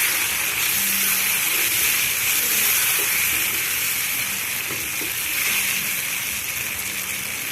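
Ginger garlic paste and ground tomatoes sizzle in a pan, giving a continuous steamy frying hiss close by, with occasional faint stirring sounds and no talk.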